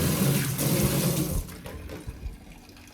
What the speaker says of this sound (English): And I fill it up with water